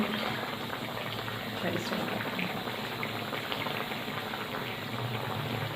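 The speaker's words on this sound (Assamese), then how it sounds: "ফ্ৰেণ্ডছ এয়া মাছ উতলি আছে" Fish curry with tomato and potato boils in a pot, giving a steady, even bubbling hiss that stays close and moderately loud for the whole stretch.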